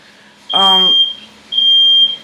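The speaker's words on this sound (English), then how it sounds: "my smoke alarm's going off" A home smoke alarm, set off by cooking, shrills in two loud, piercing beeps about a second apart; a short voice cuts in over the first beep.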